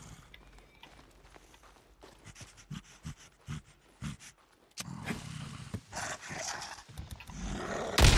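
A breaker monster in Days Gone, heavy thudding steps followed by a loud, harsh roar that swells toward the end, close and growing more intense.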